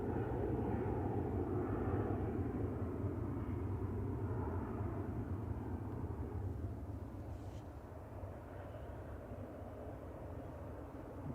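A Ryanair Boeing 737-800 departs Manchester Airport, a distant broad jet rumble that holds steady and then slowly fades.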